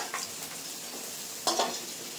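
A spoon stirs fried jackfruit seeds around a pan with onion, garlic and dried chili, giving soft scraping sizzles and a louder scrape burst near the end, close and alone.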